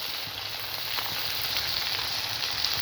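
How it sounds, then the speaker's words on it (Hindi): Okra frying over a high flame for masala bhindi, giving a steady, loud hiss of sizzling oil with faint stirring scrapes and no voices. "इनको हमने तब तक फ्राई करना है भिंडियों को, तब जब तक कि इनकी ये लेस जो है ये ख़त्म ना हो जाए।"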